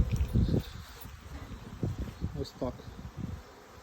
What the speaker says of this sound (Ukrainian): Бджоли активно працюють.